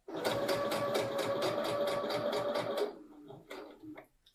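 A sewing machine stitches the casing of a drawstring bag in a fast, even run of needle strokes, close and clear, then stops, with a short final burst of stitching.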